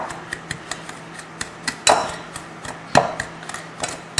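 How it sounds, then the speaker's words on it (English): A pastry blender cuts sugar into flour and cinnamon for a triple berry crisp topping, giving close, irregular dry clicks and soft scrapes against a bowl, with a couple of louder crunchy strokes. "Then I'm going to use it with the pastry blender."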